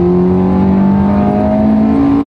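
Loud, close Ferrari sports car engine revving with a strong tonal drone that climbs slightly in pitch, then cuts off abruptly into silence.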